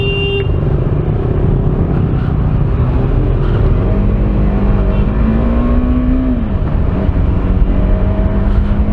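A KTM 390 Adventure motorcycle pulls away on a ride from Mumbai, its engine note climbing steadily through the gears, loud and close with continuous road and wind rumble throughout.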